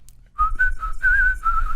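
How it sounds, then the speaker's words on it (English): A person whistles a bright, bird-like tune in several sustained, slightly wavering notes, fairly close and clear over a low background rumble. "that's pretty whistling. Sounded like a bird over there."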